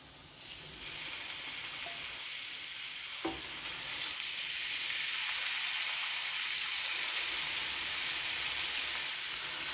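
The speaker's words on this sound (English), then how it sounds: "So now that you start smelling that garlic, you're going to add in your beef." Ground beef frying in hot oil with garlic makes a steady, close, hissing sizzle that holds evenly throughout, broken once by a brief utensil clink and with no voices.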